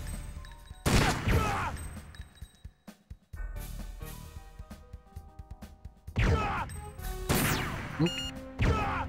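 Sharp gunshots from the arcade shooter Silent Scope, played on a PlayStation 2 emulator: several loud, punchy cracks in irregular bursts, with the game's music and effects continuing underneath.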